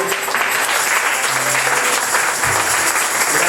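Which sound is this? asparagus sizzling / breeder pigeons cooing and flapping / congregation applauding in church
congregation applauding in church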